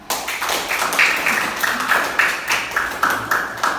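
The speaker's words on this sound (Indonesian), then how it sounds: "Tepuk tangan semua" A classroom full of students claps together, a dense and steady patter of many hands with rhythmic surges, loud and close, and a few voices rising through the noise.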